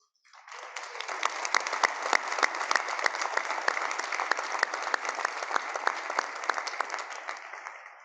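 Audience applause at a community celebration marking 100 years of impact, a dense even patter of many hands starting suddenly and holding strong for several seconds before tapering.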